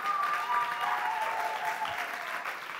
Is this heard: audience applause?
yes